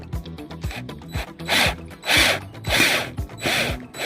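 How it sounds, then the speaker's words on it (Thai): A drill reverses a broken-head screw out of its hole with rapid ratcheting clicks and mechanical rattle, rising into several louder grinding bursts, close and without speech. "ทีนี้เราจะหมุนออกแล้วครับ และจะหมุนเอาน็อตออกมาด้วยครับ"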